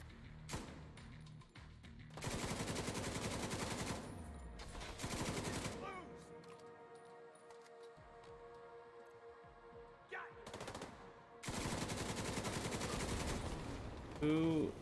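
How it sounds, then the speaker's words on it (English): Bursts of rapid automatic gunfire from The Division 2 video game erupt in several loud volleys, separated by quieter stretches of game ambience and tones. "Who is shooting me from that way?"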